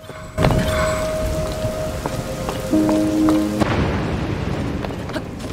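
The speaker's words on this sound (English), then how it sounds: "Oh, it's raining." Steady rain hisses over the Thunderhead Isles in Zelda: Tears of the Kingdom, a dense patter with soft rumbling thunder, while game tones and music sound faintly beneath.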